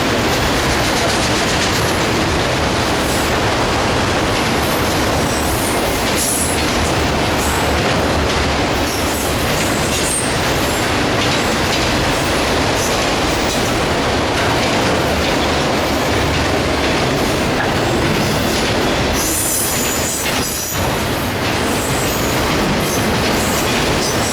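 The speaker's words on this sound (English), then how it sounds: "Now the freight train's picking up a little." A freight train rolls by at Fullerton, a loud continuous rumble of rail cars with rhythmic clattering wheels and metallic squeals, close and unbroken throughout.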